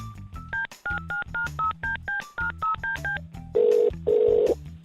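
A rapid series of telephone keypad tones beeps out a number, followed by two longer, buzzy tones.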